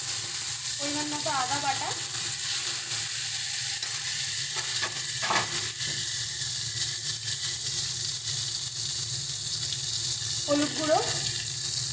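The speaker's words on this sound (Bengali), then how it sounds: "এবার এইখানেই মাছ ভাজার তেলে আমরা জিরে ফোড়ন দিয়ে দিচ্ছি।" Cumin seeds tempering in leftover oil from frying rohu fish, with spice pastes going in: a constant loud sizzle filling the whole stretch, brief scraping stirs, and someone talking over it.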